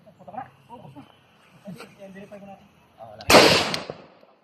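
Gunfire at a shooting range: a single loud, sharp shot rings out near the end after several seconds of voices talking, its echo decaying quickly.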